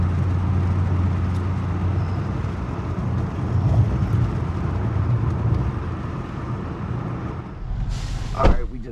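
A car driving on the road on a roughly 40-minute trip toward Mexico, with a steady low rumble of engine and road noise throughout and a brief sharp burst near the end.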